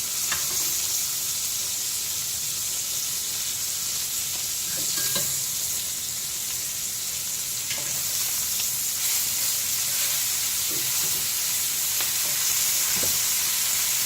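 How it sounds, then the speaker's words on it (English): Steak frying in butter in a hot pan just after being turned, a steady loud sizzle and crackle that fills the whole stretch, close up with no voices. "our steak has started to have a very beautiful brown color on the other side, so we're going to go ahead and flip them over"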